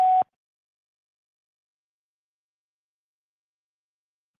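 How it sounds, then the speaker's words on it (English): A voicemail greeting ends with a single short, pure electronic beep tone, clear and steady, followed by silence. "Please leave a message after the tone,"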